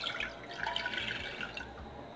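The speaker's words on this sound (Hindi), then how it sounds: "सबसे पहले मैं ले रही हूँ पानी, पानी लिया तकरीबन एक कप।" About a cup of water poured into a vessel to make ajwain kahwa, a steady close trickling and splashing that runs for a couple of seconds, fairly quiet and with no talking.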